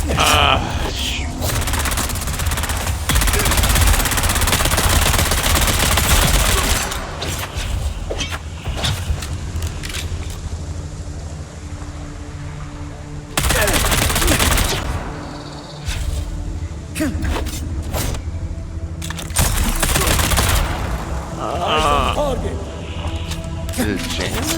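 Gunfire in Dune: Awakening, with loud bursts of rapid shots coming in waves separated by brief lulls, alongside crashes and a player talking over the action.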